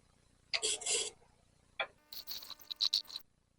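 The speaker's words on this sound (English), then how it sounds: "I'm gonna do a little bit more with the gouge. I mean, with this carbide gouge tool." A carbide gouge tool scrapes a wooden UFO-shaped bowl on a lathe in short, separate rasping bursts, one longer cut, a brief pass, then a series of quick scraping strokes, fairly close and quiet.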